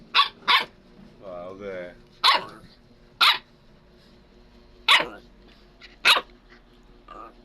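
A dog barks in sharp, loud bursts, about six barks spaced irregularly with a low growl between, while people talk nearby.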